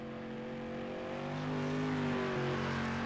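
Stock car engines from a street stock sim race at Hales Corners Speedway, a steady droning whine of several cars lapping the oval, the pitch rising slightly as they accelerate, fairly loud and continuous with no talk.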